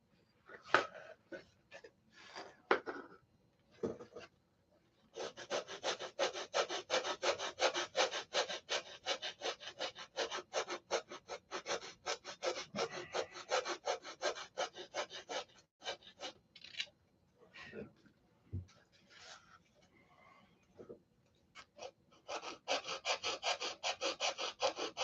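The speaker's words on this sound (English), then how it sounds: "I just take a tube with some sandpaper on it. I'll sand it around." Hand sanding with sandpaper wrapped around a tube, a close, dry rasping scrub in fast repeated strokes, running in long bursts with brief pauses and no talk.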